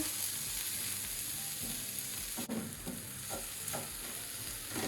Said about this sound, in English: So in goes all the lovely sweet peppers and everything. And I'm gonna let that fry a bit.